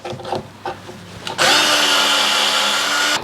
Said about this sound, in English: let us continue drilling our holes